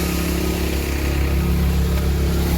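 A tractor engine runs at about 1400-1500 rpm during a chickpea harvest, giving a steady, loud, close low drone that holds constant throughout without pauses.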